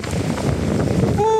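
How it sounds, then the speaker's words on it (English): Strong wind from a storm buffets the microphone in a brief, loud, continuous rush. "Oh, this wind."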